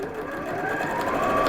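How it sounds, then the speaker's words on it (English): A sewing machine stitching a DIY medical isolation gown, running steadily and close up in a continuous mechanical whir with no talking. "this new sewing machine, I just love that it automatically backs up on me"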